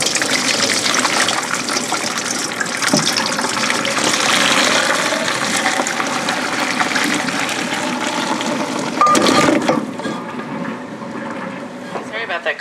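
Water gushes out of a pot of beef bones as it is emptied, a steady loud pouring rush lasting several seconds before tapering off, with a voice talking over it.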